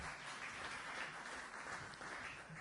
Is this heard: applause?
yes